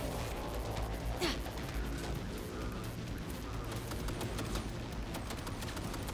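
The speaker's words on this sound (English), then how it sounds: "This man is shooting at me through a wall, bro" Muffled gunfire in Cyberpunk 2077, an enemy shooting through a wall, comes as a dense crackle of rapid shots under steady game noise, fairly faint and continuous.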